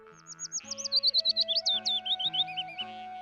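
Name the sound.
blue bird chirping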